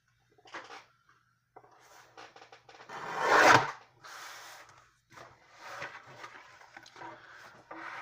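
A sheet of chipboard is cut down to size by hand, giving short rasping strokes and scraping with brief pauses and one louder burst, heard up close in a quiet room.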